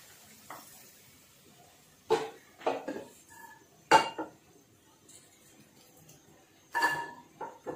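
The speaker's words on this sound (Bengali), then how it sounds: "শাক ভাজি নামিয়ে ফেলতেছি।" Fried greens being taken off the pan in a home kitchen: several separate metallic clinks and clatters of pots and a spoon, loud and close, with quiet gaps between them.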